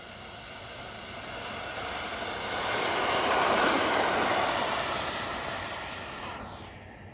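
An XFLY F-35 70mm EDF RC jet with a Viper 70 power system spools up and rolls along a runway, its rising whine swelling to a loud peak as it passes close, then fading away.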